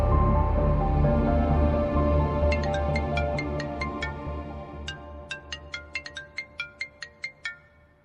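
A phone ringtone chimes in repeated bursts over background music, growing more distinct toward the end.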